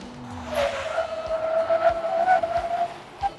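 A 4x4 tyre skids and squeals under hard straight-line braking during a stopping test, a loud sustained screech of about two seconds that fades as the vehicle halts, with road rumble underneath.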